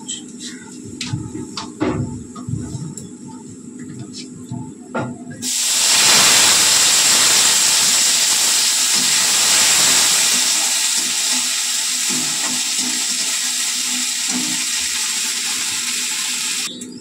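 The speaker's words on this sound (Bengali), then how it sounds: "ফোড়ন দিয়ে দিলাম, লঙ্কা জিরে কালো জিরে।" Chili, cumin and nigella seeds hit hot oil, starting with quieter kitchen clatter, then a sudden loud burst of hissing sizzle that holds steady for the remaining seconds, close and dominant.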